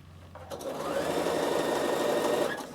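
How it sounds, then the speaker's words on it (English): A sewing machine stitching along the end of a zip on a fabric bag, a rapid steady whirring run of about two seconds that starts and stops cleanly, close and fairly loud with no talk. "you're going to sew along the end of the zip"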